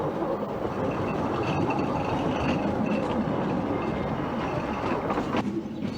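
A narrow gauge locomotive running on rails, a steady close rumble of wheels and machinery with faint clicking and a light squeal near the end, heard alone without talk.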